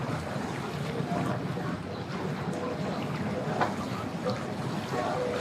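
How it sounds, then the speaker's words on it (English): A Sea-Doo personal watercraft hums steadily as it approaches a boat ramp, a moderate engine drone blended with wind and water noise. "There's another sea-doo right behind them."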